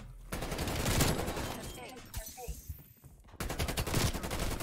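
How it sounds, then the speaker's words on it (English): Rapid gunfire from the video game Call of Duty Black Ops Cold War, dense bursts of loud automatic shots that break off into quieter scattered sounds before the firing resumes at full volume. "I just shoot him with my gun."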